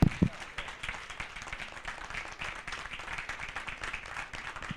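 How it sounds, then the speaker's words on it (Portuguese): Audience clapping for a speaker at a Brazilian academies of letters congress, a quiet, fairly distant patter of many hands after a brief louder burst at the start, continuing steadily throughout. "Peço uma salva de palmas para o Valdenir de Bragança"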